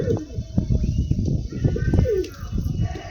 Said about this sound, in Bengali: ভালো পায়রা, তবে প্রচুর ভালো পায়রা